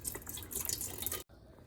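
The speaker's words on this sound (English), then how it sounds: "now we're gonna take our chicken stock, pour it in our soup pot" Chicken stock pours steadily into a soup pot for white chicken chili, a close, continuous liquid rush with dripping splashes that cuts off abruptly near the end, leaving only faint room noise.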